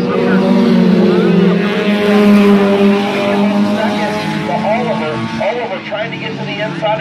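Compact race cars roar around Midvale Speedway during a heat race, a dense pack of engines droning and swelling together at close range while a commentator talks continuously over them.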